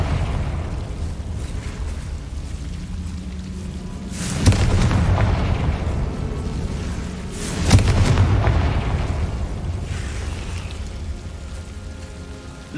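Confringo fire spell blasts in the Hogwarts Legacy video game, two booming explosions a few seconds apart rising over a steady rumbling, rain-like background.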